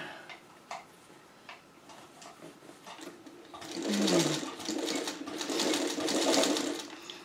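A sewing machine stitches a quilt block with inset circles, its steady whirring run starting partway through and growing louder, over fainter ticking mechanical sounds earlier on.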